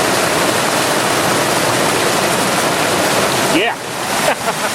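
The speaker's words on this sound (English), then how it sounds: "I believe that's the first Preon test done under a waterfall" Waterfall pouring over a Foursevens Preon 2 flashlight, a loud continuous broadband roar of rushing water that briefly dips near the end as the light is moved; voices may be faintly present underneath.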